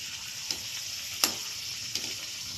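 Litti fry in hot oil with a soft, steady sizzle and hiss, punctuated by a few light utensil clicks, with no voices over it.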